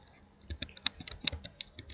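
Keys tapped on a laptop keyboard (Toshiba, Lenovo or Acer brand context aside) while entering text into a spreadsheet cell, a quick irregular run of light clicks, close and fairly faint, with no talking.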